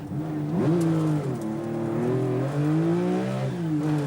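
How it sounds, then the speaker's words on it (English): Roger Clark's Porsche 911 rally car revving hard through a handbrake turn at a hairpin junction, engine note swooping up and down in pitch, loud and close with no voices. "a great video clip here of Roger Clark in a Porsche 911 doing a handbrake turn around this junction"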